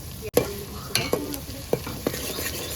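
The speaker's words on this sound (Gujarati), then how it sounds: "આમાં ડુંગળી પકાવવાની છે લાલ પીસે તાવું છે નાખ્યું આપણે લીલા મરચા" Onions and green chillies fry in a pan for a prawn dish, a steady close sizzle punctuated by several sharp scrapes of a spoon stirring against the pan, with no talk.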